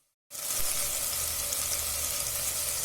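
Onion and tomato frying in a pan for a Maharashtrian matar aloo curry, heard as a steady, soft sizzle that starts abruptly after a brief silence and continues evenly.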